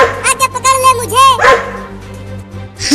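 Two dogs barking in rapid, yelping bursts, close and loud, mixed with excited talking and a whine-like voice throughout.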